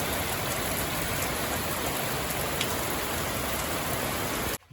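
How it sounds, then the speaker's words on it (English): Steady, heavy rain pours down during a storm, a dense continuous hiss close by that holds without break until it cuts off abruptly at the very end. "Yeah, it's storming."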